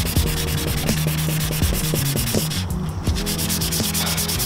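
Rhythmic rubbing strokes of sanding on a Nissan 350Z bumper being prepped for Rustoleum paint, repeated scraping passes over a low steady hum, close and continuous with no talk.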